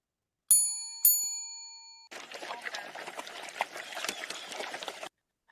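A bell rings twice in clear, bright, ringing strikes that decay slowly, heard alone. A bubbly, crackling noise follows for several seconds, illustrating Pavlov's classical conditioning of a dog with a bell before feeding.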